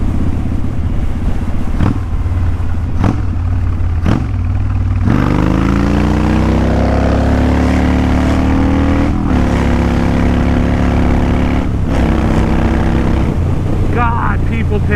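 Motorcycle engine droning steadily while riding through traffic, with a rising tone as it accelerates midway, continuous and fairly loud with wind and road noise throughout.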